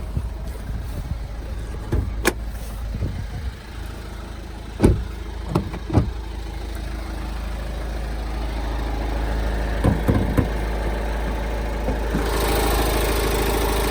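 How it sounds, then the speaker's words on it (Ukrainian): A 2011 Kia Sorento's 2.2-litre diesel engine idles steadily nearby, a low continuous hum with a few clunks and clicks early on, the rumble growing slightly fuller toward the end. "двигун працює рівненько, без проблем."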